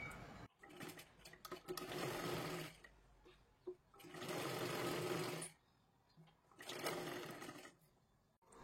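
A sewing machine stitches the inside seam of a blouse up to the sleeve, running in three bursts of rapid whirring separated by short pauses and faint handling sounds.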